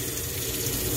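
Water runs from a faucet in a 2019 ATC 28-foot RV trailer, a steady close hissing stream with no break and no voices.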